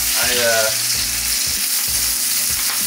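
Onions grilling in a pan, cooked well past done, hiss in a loud, close, continuous sizzle with a few brief scraping bursts from stirring, no voices.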